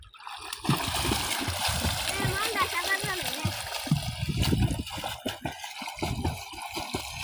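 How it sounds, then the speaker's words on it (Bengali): Village boys swimming in a pond, with continuous watery splashing and churning close by, while voices talk over it throughout. "দেখেন গ্রামের ছোটো ছেলেরা কীভাবে সাঁতার কাটতেছে"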